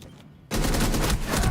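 Sniper gunfire in a competitive video game match, a sudden loud burst of shots that cuts in after a quiet moment and holds dense and forceful to the end.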